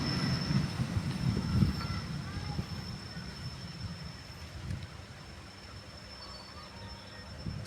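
A train comes to a halt at Ngadiluwih station, its low rolling rumble and faint wheel noise slowly easing off, with a steady high whine running throughout and people talking nearby.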